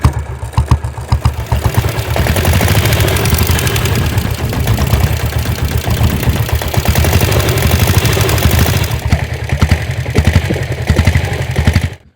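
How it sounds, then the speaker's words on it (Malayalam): A Royal Enfield 325cc diesel motorcycle engine runs loud and close for about twelve seconds, a steady rapid thumping idle with no talk. "നമുക്ക് എന്തായാലും ഇതിൻ്റെ എഞ്ചിൻ സൗണ്ട് ഒന്ന് കേട്ട് നോക്കാം"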